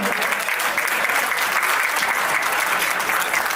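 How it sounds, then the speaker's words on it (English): Strong, dense applause from a crowd gathered in a Surrey banquet hall for an Indian Republic Day event, continuous and even throughout. "A huge round of applause for everybody gathered here today."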